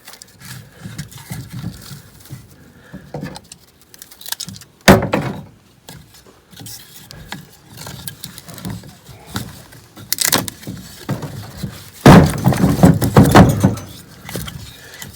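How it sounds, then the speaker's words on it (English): A bundle of firewood tied with twine is bounced so the split pieces knock and rattle into place, giving a few sharp wooden clunks and clattering bursts between quieter handling noises. "You got to bounce it to get those to rattle, to bounce into place"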